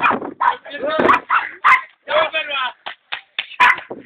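Dog barking and snarling in short bursts while biting a dog training bag, loud and close, with excited human shouting mixed among the barks.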